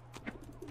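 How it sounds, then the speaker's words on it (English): Pigeons cooing in the video game Postal 4, a few soft throaty coos close by over a faint low background hum. "Have some pigeons!"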